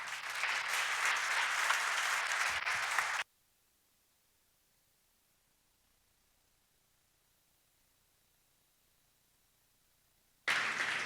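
An audience at a tech conference talk applauds loudly for about three seconds, then falls to near silence, and the clapping bursts back in briefly at the very end.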